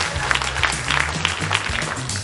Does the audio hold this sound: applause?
yes